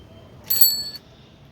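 A bicycle bell gives a single quick bright ring of about half a second, close and clear against near silence.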